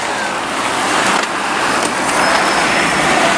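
A car rolls along a city sidewalk with a loud, steady broadband engine and tyre rumble close by, continuous road noise and no clear voices over it.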